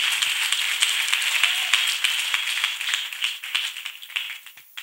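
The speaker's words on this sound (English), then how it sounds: "Can you once again clap for Master Jesus?" An audience claps energetically for several seconds, a dense patter of many hands with sharp individual claps that thin out toward the end.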